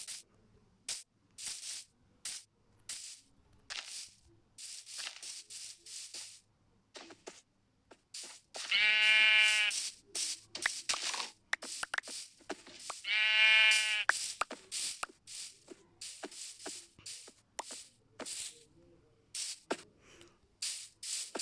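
Sheep in the Minecraft video game bleat in two distinct bursts, each a short wavering baa, amid scattered clicks and tapping from gameplay, fairly quiet and near.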